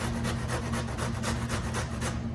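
A cauliflower head is grated on a metal box grater in a steady run of rough rasping strokes, each scrape following closely on the last over a low steady hum.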